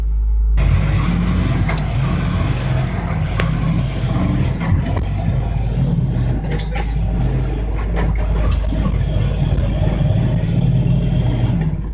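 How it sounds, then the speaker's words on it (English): A truck engine rumbles loudly and steadily at close range as the vehicle pulls away, with a low continuous drone and scattered clicks and knocks over it. "The truck drivers take this opportunity to try and drive away."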